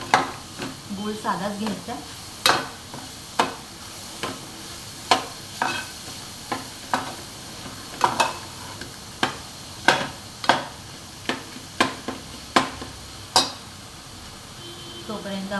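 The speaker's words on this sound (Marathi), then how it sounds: "त्याला चांगलं परतून घेऊया." Modak filling of jaggery being sautéed and stirred in a pan, with a soft sizzle under repeated sharp scraping strokes of a spoon at a steady rhythm, while someone talks now and then.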